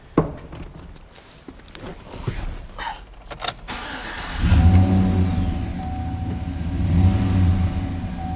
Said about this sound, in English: Wait till you hear this truck.